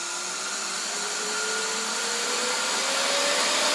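A vacuum cleaner motor powered through a variac whines steadily as it spins up, its rising pitch climbing gradually over a constant loud broadband rush, close and alone with no talk.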